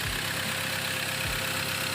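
A Ford Ranger 2.2 diesel engine with worn compression and blow-by idles with a steady low rumble and rough pulsing knocks, heard up close with no talking.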